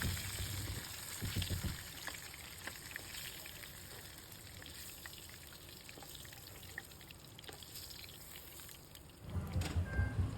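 Breaded milkfish (bangus) sizzles steadily in hot oil, a soft continuous crackle and hiss that swells a little louder near the start and again at the end.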